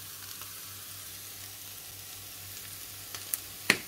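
Pizza topping searing in a pan over high heat with a little oil, a steady, fairly soft sizzle ending in a couple of quick utensil scrapes or clicks near the end; no voices.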